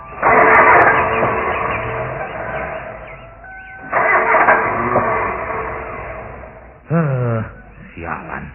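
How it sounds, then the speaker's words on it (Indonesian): A car engine cranks and sputters without catching, in three separate attempts of falling loudness, the last one short and wavering, heard close up within a comedy sketch. "mendadak mesinnya jadi ngadat begini"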